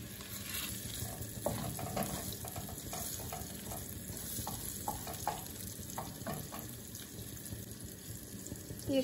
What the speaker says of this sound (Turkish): Pirinçleri ezmeden hafif karıştırarak kavuralım.